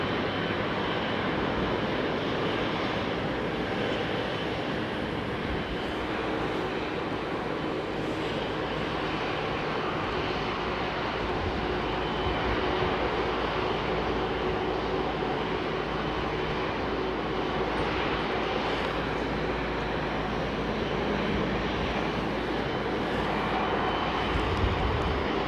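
An aircraft departing London Heathrow Airport produces a steady, broad engine roar that fills the whole span at moderate loudness, heard from a distance with no talking.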